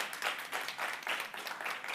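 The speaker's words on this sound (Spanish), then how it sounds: "Si le va a aplaudir, apláudele fuerte al Señor" Church congregation applauding during a Spanish-language sermon, a steady wash of many hands clapping in uneven surges for about two seconds, moderately loud with no voice on top.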